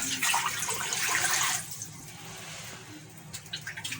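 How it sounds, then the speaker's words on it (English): Water splashes briskly into a pot for about a second and a half, then the flow eases off, leaving faint trickles and drips. "So to the pot, you add water."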